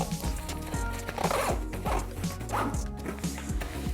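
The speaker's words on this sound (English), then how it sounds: "I'll push this down a little bit and do the secondary zipper" A zipper closes on a compression packing cube, giving repeated ratcheting pulls in short bursts, close and fairly loud over a faint musical background.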